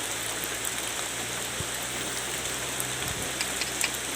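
Steady rain falls outdoors near a flowing stream, a dense even hiss that holds at a constant level throughout with no voices over it.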